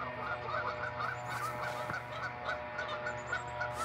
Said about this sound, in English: You hear the geese coming.